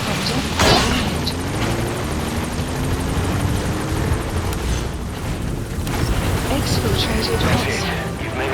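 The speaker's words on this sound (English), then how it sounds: "Support helicopter has arrived." A support helicopter's rotor thrums steadily in a Metal Gear Solid V: The Phantom Pain game scene, a loud continuous whirring wash with a few brief sharp effects layered on top.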